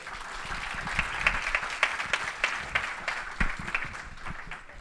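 An audience at a JavaScript conference applauds a talk on Angular performance, with many hands clapping in a dense, steady patter that carries on evenly throughout, fairly close and with no voices over it.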